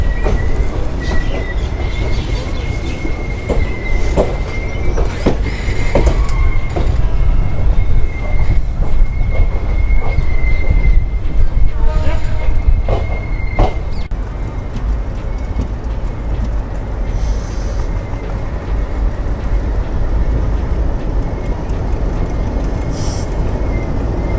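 Jammu Tawi–Jodhpur express rolling slowly on the outer approach to Bathinda junction, heard from on board: a loud continuous rumble of the carriages with a high wheel squeal running through the first half and scattered clanks.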